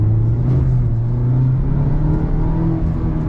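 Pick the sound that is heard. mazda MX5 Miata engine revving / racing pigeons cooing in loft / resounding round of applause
mazda MX5 Miata engine revving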